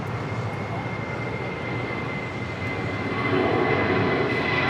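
An airliner at Los Angeles International Airport (LAX) on takeoff from runway 25 right, a steady broad engine roar that swells slightly louder toward the end, heard from a distance with no talk.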